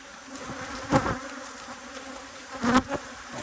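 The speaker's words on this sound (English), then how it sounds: "You see these bees trying to get in here because they remember there's a big entrance there" Saskatraz honey bees hum steadily around a hive entrance, with two louder buzzing swells as bees fly close past, over a constant background drone.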